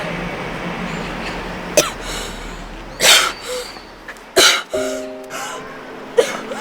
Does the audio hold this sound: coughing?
yes